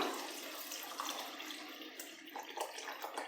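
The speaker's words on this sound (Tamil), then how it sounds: "அந்த அளவுக்கு புளி எடுத்து நான் வந்து தண்ணியாக கரைச்சி வச்சுருக்கேன் இப்போ இதை சேர்த்துடலாம்" Tamarind water poured from a container into a pot of simmering curry in a home kitchen, a steady splashing liquid stream running continuously at close range.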